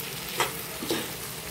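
Stuffed brinjals filled with ground coconut and peanut powder sizzle in oil in a pan: a steady soft frying hiss with two brief stirring scrapes, close and quiet, no talk.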